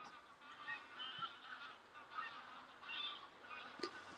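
Geese honk repeatedly in a cold outdoor setting near Lanercost Priory. The calls are fairly faint and distant, arrive in loose irregular bursts, and carry over a quiet background with no talking.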